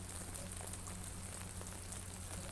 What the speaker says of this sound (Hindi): ये तो अब आपको बारिश के मनाज़र दिखा रहे हैं और तेज़ बारिश है यहाँ पे।